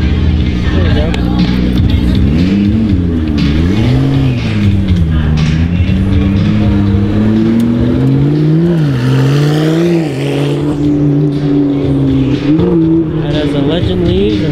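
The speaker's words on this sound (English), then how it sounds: "we got the P1 over here taking off" A McLaren P1 accelerates away at a cars and coffee meet, its loud engine rising and falling in pitch through several gear changes while someone talks over it.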